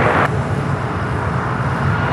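Airliner taking off from runway 25 Right at LAX, a steady broadband jet roar that fills the clip at constant loudness, heard from a distance with no talk.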